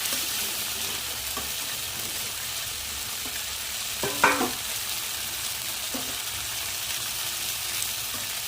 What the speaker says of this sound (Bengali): মশলাটা একটু ভাজা ভাজা হয়ে এসছে, এখন এর মধ্যে লবণটা দিয়ে দেবো।